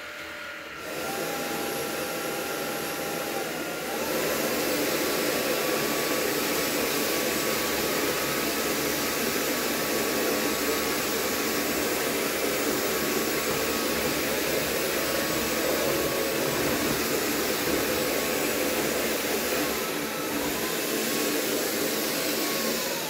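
Jimmy PW11 Pro Max handheld vacuum cleaner sucking up spilled sugar, a loud steady close whine with a rising pitch shift near the start and a slight change near the end, no voices.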